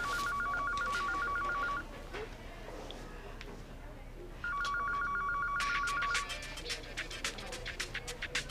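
A telephone bell rings in two bursts of repeated electronic trills, with a pause between them, heard indoors over background speech and clatter.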